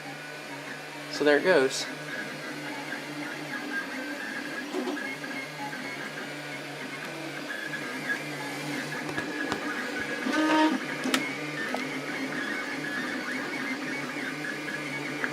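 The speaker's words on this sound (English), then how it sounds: "It's doing the last infill of the first layer, and it's about to start cranking away." An XYZprinting Da Vinci 1.0 3D printer lays down the last infill of its first layer, giving a steady whirring hum with stepper-motor tones. Someone speaks briefly over it near the start.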